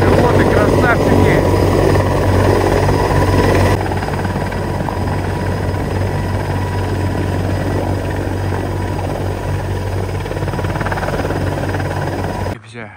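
A Mi-26 heavy helicopter hovers close by, carrying another Mi-26 on an external sling, its rotors and engines making a loud, steady, rumbling drone that continues throughout.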